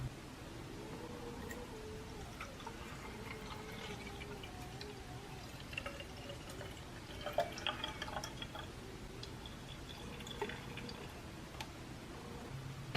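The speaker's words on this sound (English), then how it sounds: "pour the colored water over the crystals" Blue-colored water trickles and drips over absorbent polymer crystals, faint and close, with scattered small ticks and splashes over a quiet hiss.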